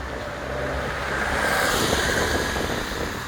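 Wind blowing in a park, buffeting the microphone with a steady, broad rushing roar that swells slightly midway and continues for a few seconds with no voices.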